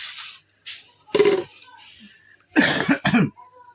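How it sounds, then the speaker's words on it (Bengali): A few sharp coughs, close by, spaced across a few seconds with short quiet gaps between them. "আর সর্দি কাশিতে কি যে জ্বালাচ্ছে তার ঠিক নেই আমাদেরকে।"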